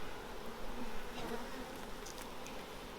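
Dense, close buzzing of many honey bees at an opened hive, a continuous humming drone with no voices.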